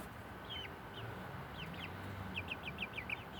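Chicks cheep in short high chirps, scattered at first and then in a quick run of calls, faint over a background rumble as a pet rabbit passes nearby.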